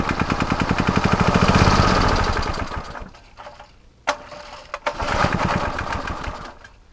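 A small lawn edger engine with a troublesome carburetor starts and runs, a loud buzzing two-stroke drone that swells then drops off, followed by sputtering catches and a revving restart, close by with no talk.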